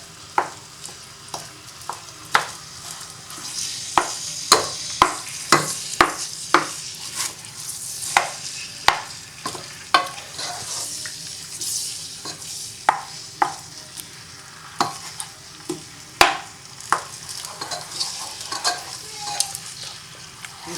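Onions and whole tomatoes fry in a pan with a soft steady sizzle, while a spoon scrapes and taps against the pan in repeated irregular strokes throughout.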